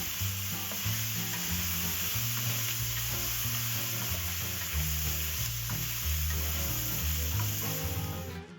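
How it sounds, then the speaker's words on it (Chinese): Beef stir-fried in a wok with bay leaves, dried chilies, dried hawthorn, star anise and Sichuan peppercorns, a loud continuous sizzle with stirring scrapes, under a steady low musical backing. "我们把牛肉也倒入锅中， 充分的翻炒"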